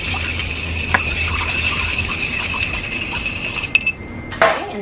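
Ice clinks and rattles against glass as a Negroni of Cocchi Americano and two other ingredients is stirred, a steady close swirl with a few sharper clinks near the end.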